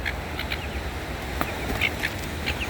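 Seagulls call in short, nasal squawks, several scattered bursts over steady outdoor background noise while the wild birds are being fed hot chips.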